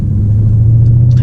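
A 2017 Range Rover SVR Sport's supercharged 5-liter V8 gives a loud, deep, steady rumble up close, a brief sustained drone with no talking.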